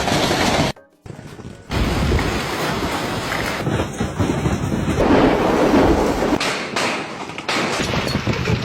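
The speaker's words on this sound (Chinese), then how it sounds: "这么大的冰雹，你的头能接几个？" Large hailstones falling in a storm, a loud continuous roar and clatter with a short break near the start, dense and close throughout.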